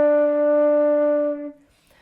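A single low D held on a flute, a clear, steady breathy tone with strong harmonics, sustained for about a second and a half before it cuts off, alone.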